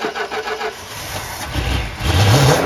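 A classic Plymouth Fury III engine cranks without catching: a loud, steady mechanical churn that swells slightly toward the end, close and alone.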